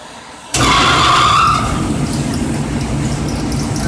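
A ventilation hood fan in a welding shop switches on abruptly with a loud rushing whoosh, then settles into a steady, broadband roar.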